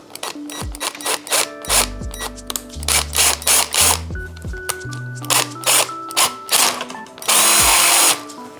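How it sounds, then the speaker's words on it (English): A power drill whines loudly in a series of short bursts with rising motor pitch, drilling a hole to mount bicycle fenders, ending in a longer steady high-pitched run. "we'll get at this with a power drill here and drill our hole"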